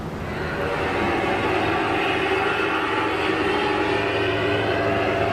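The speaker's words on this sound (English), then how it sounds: "Then to the hinterland came the bush plane, carrying people and freight" A bush plane's engine drones in a steady, dense roar with no breaks or gaps, close and loud, staged as a radio drama sound effect.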